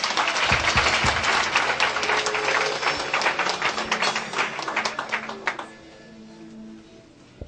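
A church congregation applauds during a wedding service, dense sustained clapping that fills the room, then thins out and fades into scattered claps near the end.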